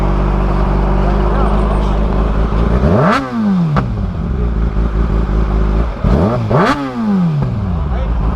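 A loud motorcycle engine idles roughly, then revs sharply twice, each rev rising fast and dropping back down.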